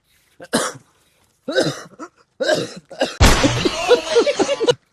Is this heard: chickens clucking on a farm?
no